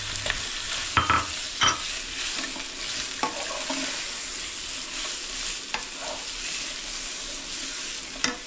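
Boiled chicken tossed into a pan with prawns and vegetables, a steady close sizzle with sharp scraping stirs and clinks of a utensil against the pan scattered throughout.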